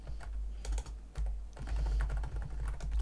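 Steady computer keyboard typing while a Korean Microsoft Access formula is entered, with close, rapid clusters of key clicks that pause briefly and then resume, alone without voices.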